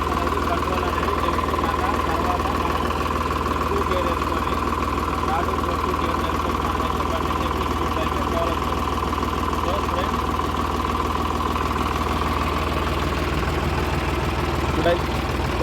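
A Sonalika tractor engine runs at a steady idle with a constant low drone and knock throughout, while someone talks over it.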